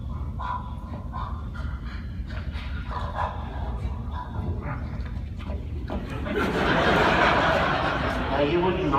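A voice actor imitates a dog barking on stage at a Botcon 2015 panel, his gruff vocal barks close and loud, followed by swelling audience laughter and noise.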